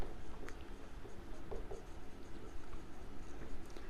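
Pen scratching on paper while writing out a balance sheet by hand, a steady, close, soft scratching with small strokes and taps over faint room noise.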